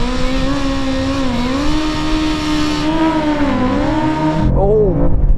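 A BMW M5 CS and a BMW M superbike launch side by side in a drag race, loud engines howling and revving with rising pitch sweeps, a sharp gear-change drop near the end, continuous and close.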